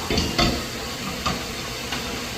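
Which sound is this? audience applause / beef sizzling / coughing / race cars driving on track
beef sizzling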